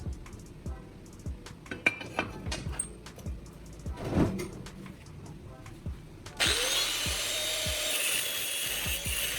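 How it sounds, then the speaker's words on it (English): Angle grinder cutting a rectangular steel block in half, a loud steady abrasive whine starting abruptly after several seconds of quieter scraping and handling clatter. "I mark a line straight down the middle and cut it in half with the grinder."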